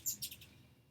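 A small bird chirps close by in two or three quick, bright tweets, then falls quiet under faint background hiss.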